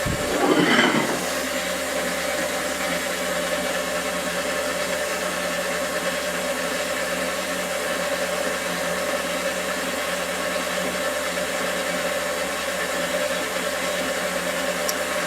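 Electric stand mixer running on low while mixing butter into yeast dough for apple cinnamon rolls, a steady, continuous motor hum with a brief knock at the start, no talking.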